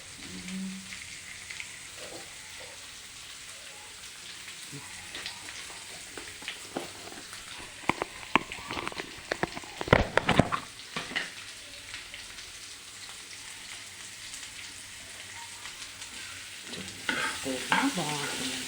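A turmeric tempering fries in a pan with a constant soft sizzle, punctuated by scraping stirs that grow busier and louder in the middle, heard up close with no voices.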